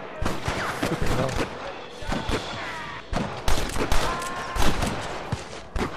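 Enemy gunfire in the Red Dead Redemption video game, a Western shootout in Pike's Basin: repeated sharp rifle and pistol shots crack in irregular bursts throughout, some near and loud, others farther off.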